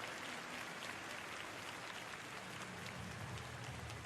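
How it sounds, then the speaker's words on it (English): An arena crowd at a B.League basketball game between the Shiga Lakestars and the Hiroshima Dragonflies gives the players a dense, steady round of applause, heard faintly as an even hiss of clapping with no voices. "Big clap for the players, very big effort, very clap."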